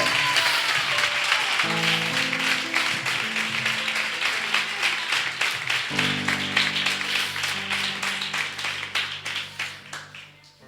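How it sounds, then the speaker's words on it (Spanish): A church congregation claps along during a sermon, with steady rhythmic applause over sustained organ or keyboard chords that grows more pulsed and regular toward the end. "Si ese aplauso es para Dios, es más fuerte"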